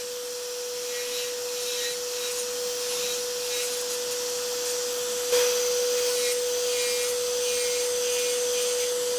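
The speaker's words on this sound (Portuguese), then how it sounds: "E agora vou utilizar o aparelho de polimento para limar a parede com uma ligeira inclinação." An electric nail polishing drill filing the side wall of a nail, a steady close whine with a constant pitched tone and a brief louder bump midway as the bit meets the nail, no talking.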